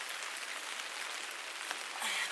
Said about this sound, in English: But it's raining again